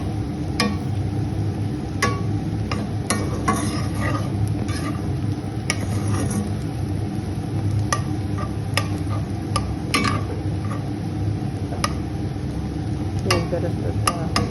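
Mola fish frying in oil with a steady, dense sizzle, dotted with sharp clicks and utensil taps throughout.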